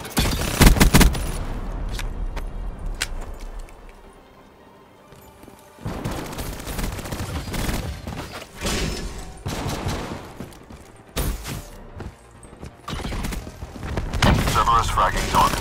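Automated sentry gun in Call of Duty Black Ops III hammering out bursts of gunfire, loud and close, in several long stretches broken by quieter gaps, with game voice callouts at times.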